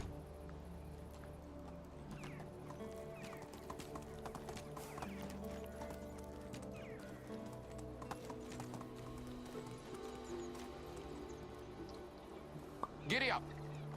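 Horse hooves clip-clop at a steady trot in the video game Medieval Dynasty, set against a dense ambient game backdrop with a brief splashy sound near the end.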